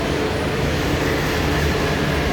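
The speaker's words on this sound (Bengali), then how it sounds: "আমার ট্রেন এসে গেছে, এখন দমদম বাড়ি যাব।" A steady, dense rumble of a train rolling into a station, broadband noise holding constant and loud throughout without voices.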